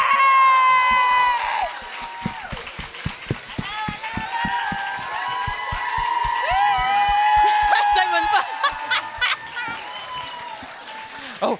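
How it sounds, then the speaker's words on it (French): A live audience claps and cheers in a steady, loud wash of applause with shouts and whoops, continuing for several seconds while voices speak over it. "on aimerait ça que vous applaudissiez tout le monde"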